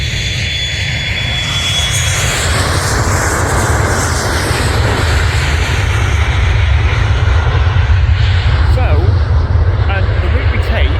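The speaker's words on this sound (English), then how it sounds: "We have a private jet making a lot of noise." A private jet's engines roar at an airport viewing park, a loud, continuous, broadband rumble and whine that swells and shifts slightly, with a person talking over it.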